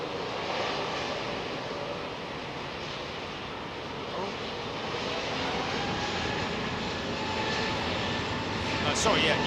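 Jet airliners at Heathrow Airport produce a continuous, broad engine roar that swells slightly toward the end, steady and moderately loud, with voices faintly mixed in.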